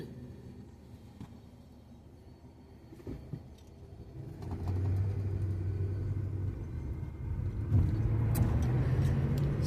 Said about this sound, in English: So here I am, driving.